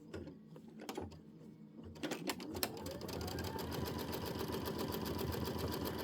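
An embroidery machine stitches a pieced quilt block, first a few sparse clicks and mechanical starts, then settling after a couple of seconds into a rapid, steady rattling needle rhythm that runs on, close and moderately quiet.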